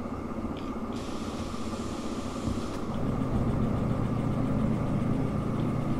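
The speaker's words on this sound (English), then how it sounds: "Wait till the hissing sound stops." In Derail Valley, a locomotive's independent brake releases a brief airy hiss over the steady low idle of the diesel engine, then only the engine drone and ambient rumble carry on, with no speech.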